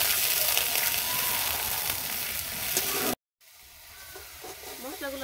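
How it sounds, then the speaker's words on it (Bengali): Ginger-garlic paste, ground coriander, turmeric, salt, cardamom and cinnamon sauté in hot oil for a banana-blossom dish, giving a loud, dense, close sizzle that cuts off abruptly, then returns as a quieter crackle. "মশলাগুলো আমি দিয়ে সুন্দর করে কষিয়ে নিয়েছি।"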